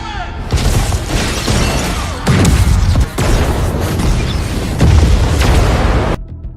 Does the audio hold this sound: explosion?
yes